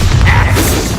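A Bombarda spell explosion in the video game Hogwarts Legacy: a loud, deep, rumbling blast that holds for about a second.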